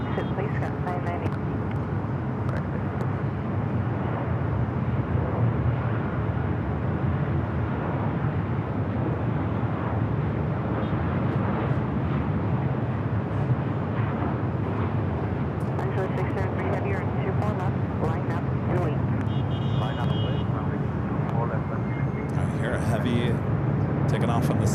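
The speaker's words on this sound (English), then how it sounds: "Taking off on the south side, that is the Dreamliner." Boeing 787 Dreamliner airliner taking off from the south side runway at LAX, a sustained, fairly distant jet roar that holds steady throughout, with a voice talking over it.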